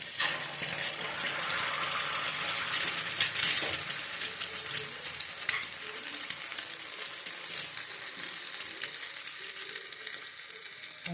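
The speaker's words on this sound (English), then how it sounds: "Now I'm adding an egg to it." An egg fries in hot refined oil, giving a steady crackling sizzle with sharper spits and pops, moderately close with no voices.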